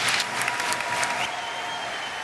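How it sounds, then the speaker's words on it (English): Spectators at a velodrome cycling hour record attempt cheer and clap in a lively burst that fades into a softer, sustained crowd roar, heard from a distance. "The crowd are going pretty mad."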